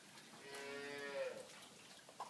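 Cattle and young calves on a farm lot lowing during a rainy morning, a long drawn-out moo rising and falling over steady rain hiss, with a shorter call near the end.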